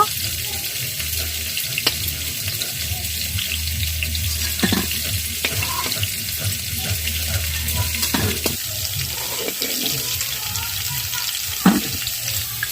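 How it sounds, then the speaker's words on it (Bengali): Pointed gourd leaf fritters (potol patar pakora) fry in oil with a steady, close crackling sizzle, broken now and then by light scrapes and clinks from stirring. "এইভাবে সব পটল পাতাগুলো ভেজে নেব।"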